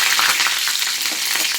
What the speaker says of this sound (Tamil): இப்போ வந்து கருவேப்பிலை போட்டுக்கலாம்.